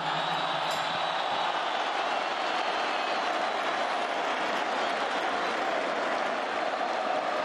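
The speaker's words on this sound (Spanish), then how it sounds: "Un fuerte aplauso para todos ellos que realmente merecen esos aplausos de todos ustedes." Sustained audience applause at a club event, loud and steady throughout as a dense wash of clapping with no pauses.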